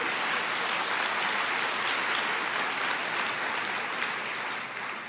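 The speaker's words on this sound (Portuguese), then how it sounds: "Pode aplaudir ao Senhor." Church congregation applauding during a sermon, a steady dense wash of clapping that holds loud and even for several seconds before easing slightly at the end, with no voices over it.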